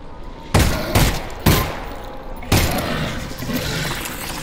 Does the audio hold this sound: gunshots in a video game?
yes